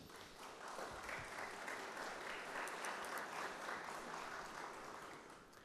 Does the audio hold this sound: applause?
yes